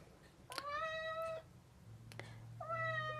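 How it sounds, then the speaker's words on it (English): A cat meows twice nearby, a long drawn-out meow followed by a shorter one, over a quiet background hum. "Excuse me. That's my cat."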